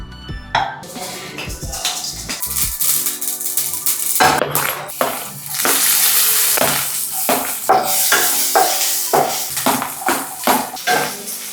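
Onions sizzle in hot oil while a utensil clatters and scrapes against the pan in repeated bursts, close and fairly loud.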